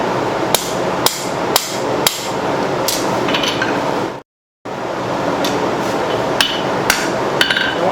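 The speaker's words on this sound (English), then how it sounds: "I'm going to start with knocking these corners down" Hammer blows knocking down the corners of a steel blank while forging a spoon, sharp ringing strikes at a steady, slow rhythm, close and loud, with a brief gap in the middle and no talking.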